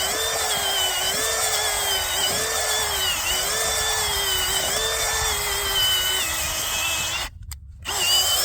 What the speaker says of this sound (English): So you just run your auger.